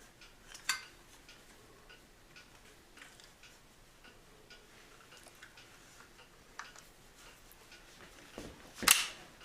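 Parts of a WWII M1 carbine made by Underwood Type Writer Co. are pushed and snapped together, heard as faint scattered metallic ticks that end in one sharp, louder click.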